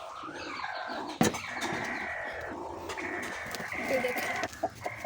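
Chickens in a coop cluck and peck while eating feed, with short rustles and a brief sharp knock near the start, plus a wing flap. Several birds sound close, and there is no talk.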